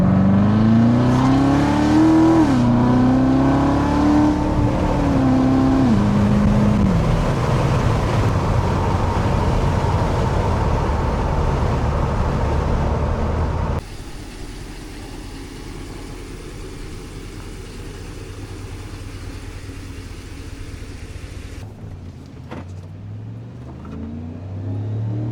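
A Corvette's engine rises in pitch while accelerating, with a strong rumble up close, then settles into a steadier, quieter cruising drone from inside the car.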